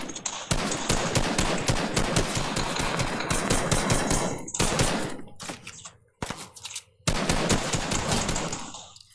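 Gunfire in the video game Fortnite: rapid, loud bursts of automatic shots in a fast rhythmic stream, pausing briefly and resuming with shorter volleys, with no talking over it.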